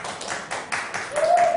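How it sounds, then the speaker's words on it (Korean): Schoolchildren in a classroom clap together for a classmate who answered well, a short run of rhythmic, roughly unison claps at a steady beat, close and fairly loud, with a brief vocal tone near the end. "박수 쳐주세요"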